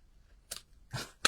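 Scissors cut card stock for a handmade hibiscus greeting card, making three quick, faint snips in a quiet room.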